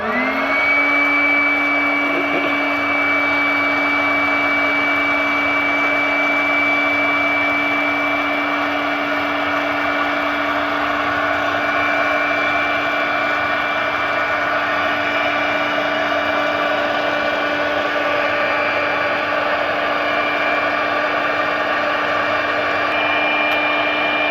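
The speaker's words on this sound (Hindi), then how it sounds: "सबसे पहले मशीन के अंदर पॉपकॉर्न डालेंगे और ऑन करेंगे" A popcorn machine loaded with kernels runs with a constant, loud whirring motor drone and a steady tonal hum, unbroken for the whole stretch; no distinct pops stand out.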